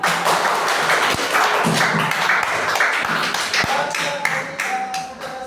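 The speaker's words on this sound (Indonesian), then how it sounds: "Kita akan beri tepuk tangan untuk kita semua dulu." A classroom group claps together in a loose, sustained round of applause, hands tapping briskly and fading slightly toward the end.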